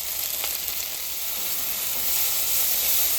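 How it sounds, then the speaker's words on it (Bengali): Spiced masala with Kashmiri chili powder frying in a pan for a prawn and pointed gourd curry, giving a soft continuous sizzle and hiss, fairly quiet and close, with no talking. "মশলাটা আমার কষানো হয়ে গেছে"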